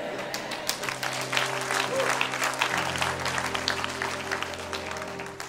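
A church congregation claps and cheers during a sermon, a continuous wash of many hands with steady held tones from instruments underneath, moderately loud throughout.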